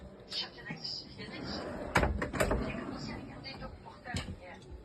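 Kitchen drawers in a camper van on display at a motorhome show, opening and shutting with several sharp knocks and slides, heard close up while a person talks.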